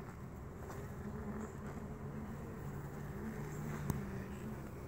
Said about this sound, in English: Nice docile bees.